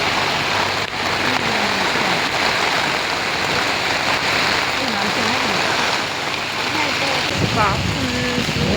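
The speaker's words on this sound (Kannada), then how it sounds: "ಸಂಜೆ ಆಗ್ತಾ ಮಳೆ ಇನ್ನೂ ಜಾಸ್ತಿ ಆಗ್ತಾಯಿದೆ" Heavy evening rain makes a dense, steady roar throughout, with a person talking faintly underneath.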